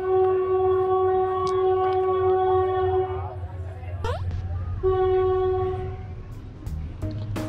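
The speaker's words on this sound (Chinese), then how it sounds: "火车进站了" Train pulling into a station on a Kanchanaburi railway in Thailand, a long steady horn blast, a brief pause, then a second blast over a low rumbling engine, loud and near.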